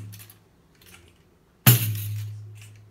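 A pandeiro frame drum is struck once with the thumb at its sweet spot, giving a single sharp hit with a booming tone that rings out and slowly fades after a quiet, near-silent lead-in.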